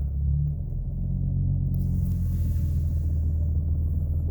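A car engine idles steadily nearby, a deep continuous low rumble with no other sounds over it.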